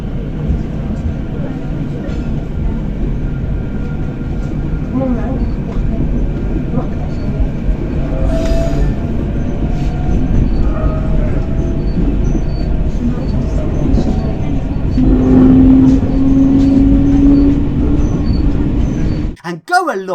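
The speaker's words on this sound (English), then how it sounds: "So then, I now get on the Suburban train." Suburban train in Tunisia, heard from inside while riding: a steady loud low rumble of wheels and carriage runs throughout, with a brief squeal late on and faint voices in the background.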